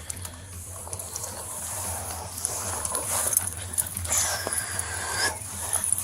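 A dog whimpers and whines close by in short, uneven bursts over a low background rumble, with soft rustling and clicking mixed in.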